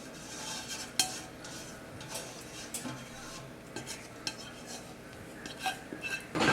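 Metal spoon scraping leftover sauce from a pot while making macaroni pie, a series of close, light clinks and scrapes with brief louder knocks, no talking.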